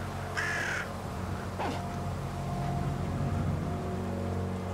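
Bird cawing in the snowy survival game The Winter Survival, one harsh crow-like caw early on and a fainter second call shortly after, set against a steady rainy background rumble with no speech.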